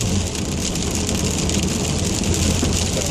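Heavy rain drums steadily on a moving MG GS car, a loud, dense, unbroken hiss and patter over a low road rumble, with no voices.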